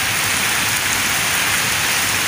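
Heavy rain pours down on a village in Punjab, Pakistan, a dense and loud continuous wash of droplets on surfaces with no voices.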